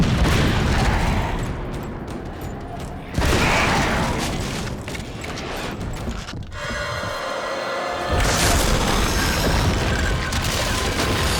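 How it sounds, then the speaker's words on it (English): Grenade explosions in the video game Darkwatch, several heavy booming blasts with rumbling decays and a crackling stretch between them, loud and dense with no talk. "That makes a hell of a boom, but yeah, I just got to get the arc right on those grenades."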